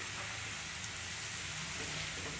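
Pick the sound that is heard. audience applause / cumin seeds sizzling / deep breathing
cumin seeds sizzling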